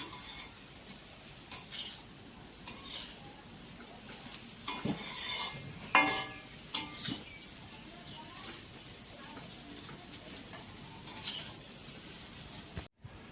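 Chow mein with egg, potato and vegetables being stirred and fried in a pan, with soft sizzling under scattered scraping and clattering of utensils against the pan, a few louder knocks around the middle.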